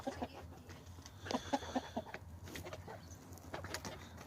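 Baby chickens let outdoors in the morning give a few high, short peeping chirps in quick bursts, fairly faint over background rustle, with occasional fowl-like calls mixed in.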